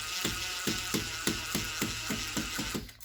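Screw being driven with a cordless driver while a wall light is fitted, a rapid steady series of sharp ratcheting clicks, about eight in three seconds, close and fairly loud, the tool struggling.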